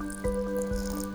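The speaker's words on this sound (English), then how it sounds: "it's just about adding some water in" Water poured into corn flour in a bowl while making fake snow, giving a couple of short, close wet squishes and drips over a faint steady hum.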